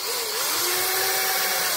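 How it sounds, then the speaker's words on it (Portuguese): A power drill bores into a piece of wood during repair of a water wheel, a continuous high whine with a slight pitch glide, steady and close with no talk. "E aí eu vou dar uma ajudazinha aqui com a furadeira pra não rachar a madeira."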